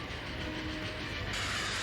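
A sea train from the One Piece anime rumbles steadily along its tracks, a continuous broad hiss and rattle that swells slightly toward the end, with no voices.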